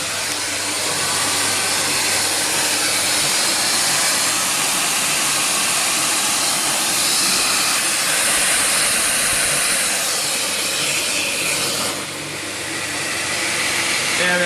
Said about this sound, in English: So now we're running the vacuum pump and extracting from the CamVac straight into the workshop, and it's actually quite noisy